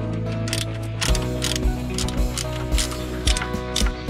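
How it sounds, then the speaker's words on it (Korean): Ratchet wrench loosening radiator bolts on an All New Suzuki Hayabusa motorcycle, a run of close, loud metallic clicks and clacks in an uneven rhythm over a low hum. "그러면 밑에 볼트 하나랑 여기 위에 2개 풀어주면 됩니다"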